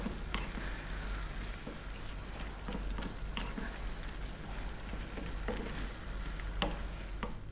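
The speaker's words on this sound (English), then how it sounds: "we're going to throw this around in the pan for 3 more minutes, and then our sauce is done" Salami pasta sauce sizzling in a pan as it is tossed, a steady crackling fry with scattered sharp clicks and pops throughout.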